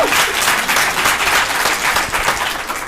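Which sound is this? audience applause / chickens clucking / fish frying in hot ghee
audience applause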